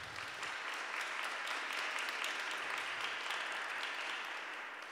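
A conference keynote audience gives sustained, even applause, a dense wash of many hands clapping at a moderate distance without interruption.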